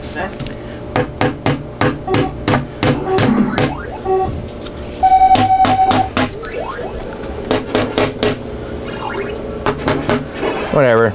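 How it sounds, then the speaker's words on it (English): Staples are hammered down by hand during an arcade power supply install, a series of sharp, close, irregular strikes in bursts, with occasional scraping and tool handling between them. "Maybe we can just kind of hammer them down just a little bit."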